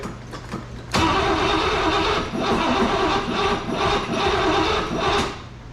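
Car engine being started after carburetor and brake work: a short cranking, then it catches at about one second and runs loud and close, idling roughly with uneven surges before dropping off near the end.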